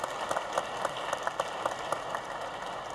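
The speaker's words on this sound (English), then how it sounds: "Round of applause for Martha" An audience at a civic event about Seattle's waterfront applauds in a steady, moderately distant wash of clapping with a few sharper claps standing out.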